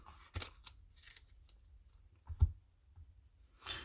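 A few oracle cards are picked up and handled, giving soft, sparse taps and brief slides spaced out over a quiet background.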